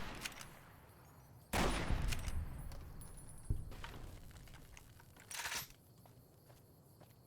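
Gunfire in Fallout: New Vegas, with a few sharp bursts of shots spaced across the stretch, loud against a quieter background with some clattering, no speech.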